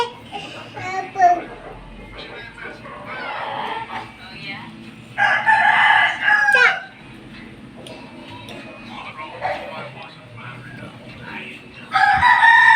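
A neighbour's rooster in the Philippines crows several times at moderate distance, each long cock-a-doodle-doo cutting through quiet background voices and a child's chatter.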